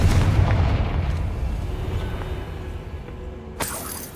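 A fire-spell blast in Hogwarts Legacy, a heavy booming burst that rolls off into a long fading rumble, followed by a sharp crackling hit near the end.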